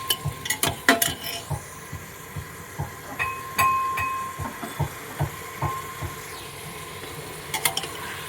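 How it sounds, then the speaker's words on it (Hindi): Meat is stirred as it fries in oil in a pot for a korma, with steady sizzling under repeated scraping and clinking of a spoon against the pan. "अब इसे चलाएंगे इस तरीके से अच्छे से। हम इसे ऑयल में गोश्त को अपना फ्राई करेंगे।"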